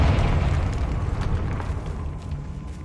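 Boom from a Confringo blasting spell in a wizard game, a heavy low rumble that starts loud and slowly decays over a few seconds with no voices.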